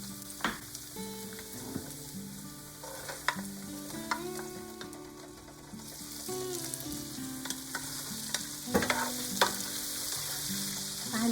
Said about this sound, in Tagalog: Pag po ginisa, lagay pong bawang, sibuyas, kamatis.